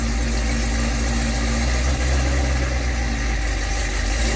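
Supercharged LT4 V8 in a Cadillac CTS-V idles in gear after a transmission rebuild, a steady, loud, low rumble with constant vibration and no revving throughout.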